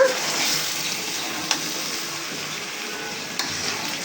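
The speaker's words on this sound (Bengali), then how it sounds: "এখানে চলছে মুরগির মাংস রান্না" Chicken meat cooking in a pot for a home picnic gives a steady, fairly loud broadband hiss of sizzling, with two brief knocks from the pot and no one talking.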